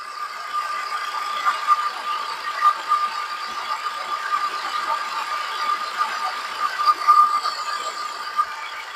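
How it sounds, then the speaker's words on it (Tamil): A diesel car's engine bay gives off a steady whirring belt noise with a light rattle, constant and fairly close, with no talking. "இந்த பெல்ட் சவுண்டு தான் வருதுங்க இன்ஜின்லேருந்து வர சவுண்டு கிடையாது"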